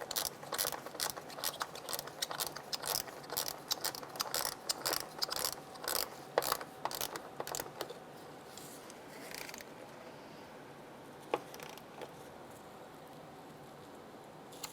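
A torque wrench ratchets in quick, clicking bursts while tightening the ignition coil bolts on a 2011-2016 Hyundai Elantra, then falls quiet apart from a few isolated clicks near the end.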